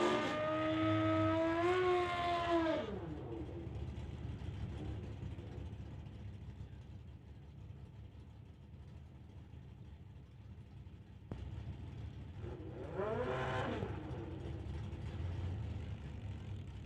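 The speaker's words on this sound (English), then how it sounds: "into drag racing action" Drag racing cars at a street-legal event accelerating down the strip: a loud rising engine whine at the start, a quieter stretch, then another car revving up near the end.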